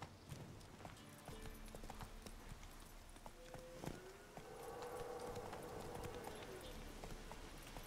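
Horse hooves clip-clop at a steady trot in the video game The Witcher 3, faint and a little distant, with a soft low voice murmuring in the background.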